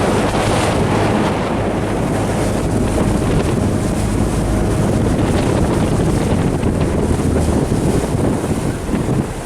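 A Sun Tracker Party Hut pontoon boat cruising at 3,000 RPM, about 11 miles an hour, with a steady low engine drone, water rushing against the hull and heavy wind buffeting the microphone throughout.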